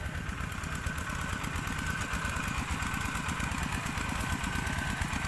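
Engine-driven water pump running steadily beside a sugarcane field, a continuous close, loud mechanical chugging with a rapid even low rhythm and no pauses.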